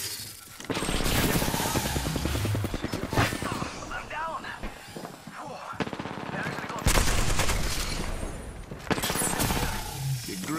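Heavy automatic gunfire in the Apex Legends video game, with sustained rapid bursts, impacts and shield effects layered densely and loudly across the whole stretch, pausing briefly before more bursts.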